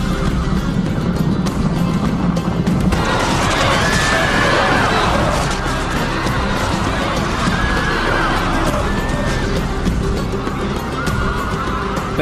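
Cavalry horses clash in a battle in the Time Commanders strategy game, with Caledonian cavalry and chariots fighting Roman horsemen. Whinnies rise over a dense, constant roar of battle noise, hooves and crashes that runs for the whole stretch without a break.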